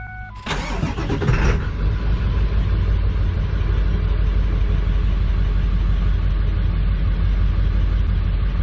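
A 2000 Ford F-250 Super Duty with a 7.3L Powerstroke diesel, warm engine, cranks briefly and fires, then settles into a loud, steady, rumbling idle close by with no talking.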